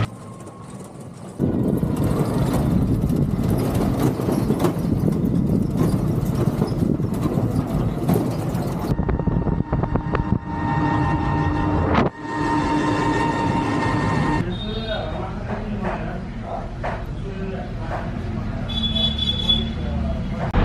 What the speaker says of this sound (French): les tuk-tuk n'ont pas d'amortisseur, mais là en plus, là, on est carrément sur une piste